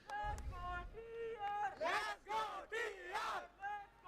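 Fans cheering at a Valorant esports playoff match, with loud crowd shouts and battle cries rising in waves after a brief thump, under a busy mix of voices.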